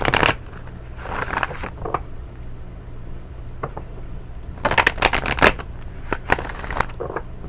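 Tarot cards being shuffled up close in bursts of quick riffling flutters, with short pauses and a few single taps between the rapid papery runs.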